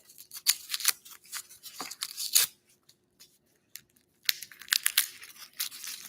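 Papery skin is peeled by hand from a garlic clove, close crackling and tearing bursts with short pauses between them, no talking.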